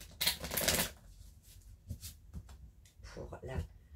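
Tarot cards being shuffled and laid out for a nine-card spread, giving a loud riffling burst followed by softer intermittent card slaps and slides, with a voice speaking over them.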